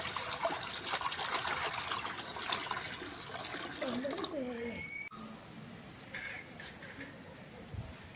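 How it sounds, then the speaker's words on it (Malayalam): Running tap water splashes and trickles steadily while something is washed, loud and close for the first five seconds, then fading to quieter intermittent dribbles with faint voices in the background. "ഞാൻ ആദ്യം ഇത് കഴുകി വൃത്തിയാക്കി വെച്ചിട്ട് ഇതെടുക്കാം."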